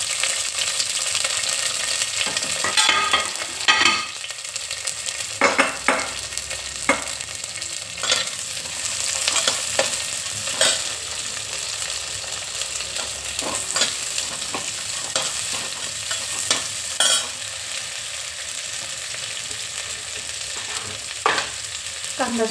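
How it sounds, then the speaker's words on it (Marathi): Onion frying in hot oil with cumin seeds for chicken biryani, a steady crackling sizzle throughout with repeated stirring scrapes of a utensil against the pan, fairly close and without talk. "जिरं गरम होत आलंय आपण यात घालून घेऊ कांदा."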